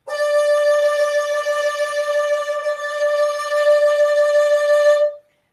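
A single sustained bowed string note with vibrato and a shaking bow, steady and loud, with a slight wavering pulse throughout before stopping abruptly.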